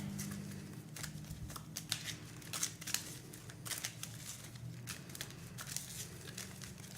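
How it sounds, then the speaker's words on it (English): Playing cards being shuffled during a tabletop card game, a soft continuous riffling and crinkling texture with papery bursts, faint and close, lasting throughout. "Jason is shuffling because Element Woman counts as an equipment"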